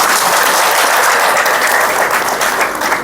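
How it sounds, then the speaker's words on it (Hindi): An audience at a spiritual discourse breaks into loud, dense clapping that holds steady and then eases slightly near the end, with no talking over it. "एक बार ताली बजाओ इस चीज।"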